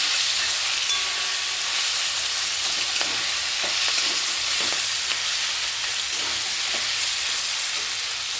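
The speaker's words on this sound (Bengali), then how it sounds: "পেঁয়াজগুলি ভাজা হচ্ছে" Onions fry in a pan with a constant close sizzle and hiss. A few light clinks of stirring come through, and no one talks.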